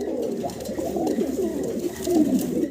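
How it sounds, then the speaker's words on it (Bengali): A pair of Bukhara pigeons in fully Andalusian coloring cooing nearby, soft rolling coos repeating throughout, with no talk. "ফুললি অ্যান্ডালুজিয়ান কালারের ভিতরে আমরা একজোড়া বুখারা কবুতর দেখাচ্ছি"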